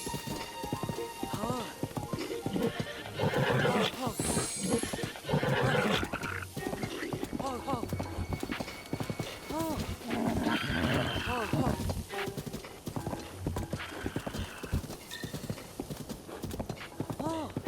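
Horse hooves clip-clopping steadily with occasional neighs and whinnies in The Legend of Zelda: Breath of the Wild, set against a rain-like wash, with someone talking over much of it.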